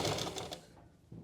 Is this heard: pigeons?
no